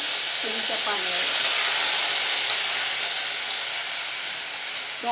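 Steady hot sizzling and hissing from jiló (scarlet eggplant) frying in a very hot pan, continuous and fairly loud, with brief voice fragments near the start.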